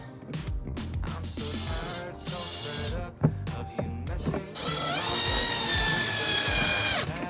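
A power drill drives screws with a T27 bit while fitting a Polaris Ranger pulse bar, giving several short whirring bursts with pauses between them and a longer, steady run toward the end.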